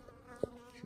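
A bee drinking water on a Pacific Crest Trail hike gives a faint, steady insect buzz with a couple of brief louder passes near the microphone.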